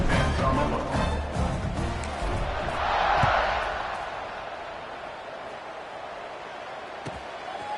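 A football stadium crowd roars in a broad, steady wash of cheering that swells in the middle and then slowly fades, with a few scattered thuds over the continuous noise.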